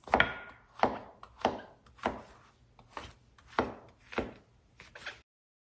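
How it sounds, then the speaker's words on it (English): Vegetables are roughly chopped with a knife on a cutting board, about nine distinct, close thuds at a slow, uneven rhythm, each followed by a short scrape, with no talking. "then you just want to roughly chop these"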